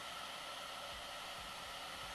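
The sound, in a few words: hair dryer blowing at full power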